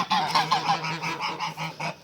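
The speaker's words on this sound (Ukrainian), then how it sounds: "Так, це мої гусики." Several geese honk repeatedly at close range, a rapid series of nasal calls overlapping one another with no talking.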